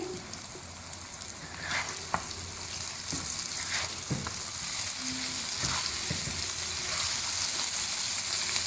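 Stuffed okra, masala-filled bhindi, sizzles steadily in a pan over a low flame, a constant mid-level crackle with occasional spoon scrapes and soft clicks as the pieces are turned.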